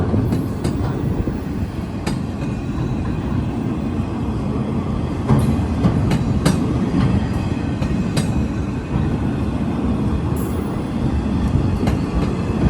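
A freight train on a short line railroad rolls steadily along the rails with a loud continuous rumble and occasional clicks and clanks from the wheels, no voices.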